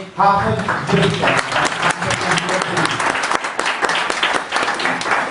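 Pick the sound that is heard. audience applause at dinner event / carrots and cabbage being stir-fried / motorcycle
audience applause at dinner event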